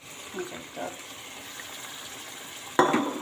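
Blended onion paste goes into a hot pan for aloo gosht, giving a brief burst of frying and sizzle near the end, after a few seconds of quiet stirring.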